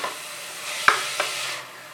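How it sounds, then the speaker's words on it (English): Crushed ginger and garlic frying in a pan, giving a steady close sizzle, with two short clanks of a spoon against the pan partway through. "Just keep on stirring it about 8 to 10 minutes."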